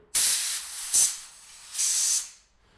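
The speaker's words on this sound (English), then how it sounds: "I'm going to grab some compressed air if you have some" Compressed air is blown through a Briggs and Stratton carburetor from a Craftsman machine in three loud, close hissing bursts: a long blast, a short one, then another long blast that fades out.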